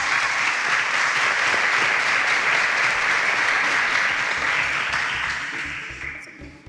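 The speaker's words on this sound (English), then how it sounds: "And joining Destiny in the advanced round, please a round of applause for Ezenwa and Dabira." A crowd applauds steadily with dense, continuous clapping that holds strong for several seconds before gradually thinning out toward the end.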